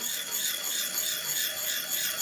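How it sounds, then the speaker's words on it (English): A woodturning gouge is sharpened by hand with a circular motion, giving a continuous, close scraping rasp that swells and fades rhythmically with each turn and has no talk over it. "move the gouge round, and that has put the edge on"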